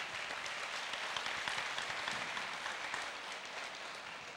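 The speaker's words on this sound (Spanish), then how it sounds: "Un fuerte aplauso, por favor" Applause from an audience at a law faculty event of the Universidad Autónoma de Yucatán, a steady, fairly faint wash of many hands clapping that holds for the whole stretch and tapers slightly toward the end.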